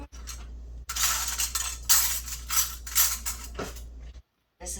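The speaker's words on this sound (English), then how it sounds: "Let me get me a spoon." A spoon is handled in a home kitchen, with a series of close metallic clinks and rattling scrapes against dishes and utensils, bursts coming and going over a low steady hum before a brief silence at the end, no voices heard.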